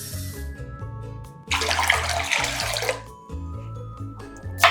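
Tap water pours into a bowl of rice for soaking, a rushing splash of about a second and a half set against background music, stopping abruptly.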